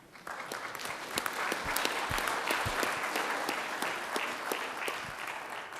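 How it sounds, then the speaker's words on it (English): Sustained applause from a large audience, steady and dense with many overlapping claps, loud and continuous throughout with no voices on top. "I want you guys to give yourself a round of applause."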